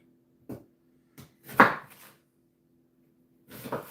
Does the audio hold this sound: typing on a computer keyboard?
no